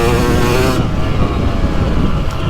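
A 2023 Husqvarna TX300 Heritage Edition two-stroke dirt bike being ridden, its engine loud and close, revving high with a buzzing tone before dropping to a rougher lower drone.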